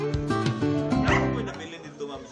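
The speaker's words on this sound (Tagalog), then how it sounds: "dala ang mga sinagip nila roong 100 ng aso" Rescued dogs brought home from Kuwait give several short, close barks and yips, overlapping with other sounds in a lively, busy stretch.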